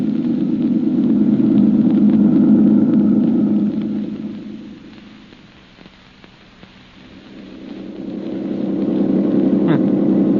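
A car drives along a road in a radio drama sound effect, a steady low engine rumble that dips quieter midway, then swells back up, with no talking.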